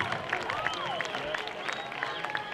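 Crowd applause and scattered cheering at a high school homecoming football game, Olympus versus Alta, heard from a distance in a large open stadium, with a loud announcer's voice ringing over it.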